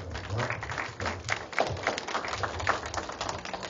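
Audience applause at a Busan independent documentary film conference session, a steady dense patter of many hands clapping throughout, moderately loud with a faint murmur beneath.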